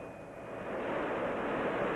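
An XB-70A aircraft engine runs in a steady, distant-sounding roar that grows slightly louder after the first moment and then holds even, with a thin high whine on top.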